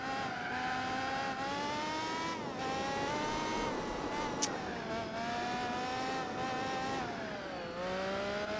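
Race car engines in Gran Turismo 4 during a World Championship race with a GT1, a C9 and a Minolta nearby, a continuous loud whine rising and falling through gear changes, with a brief tick midway.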